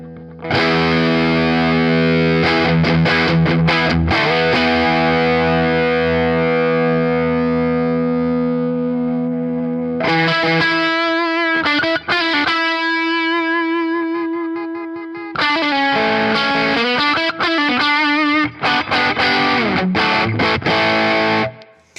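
Loud, crunchy electric guitar chords through a Dumble-style overdrive pedal ring out, then single sustained notes and bends, with brief pauses between phrases.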